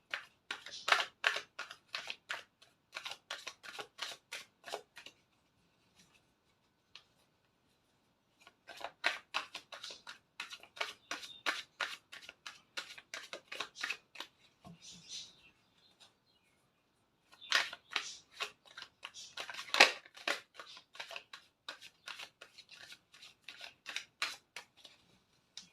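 Tarot cards shuffled and drawn in quick bursts of crisp, rapid clicking and riffling, with near-silent pauses between the runs.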